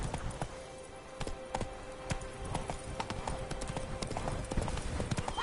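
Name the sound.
horse hooves galloping in a PS4 video game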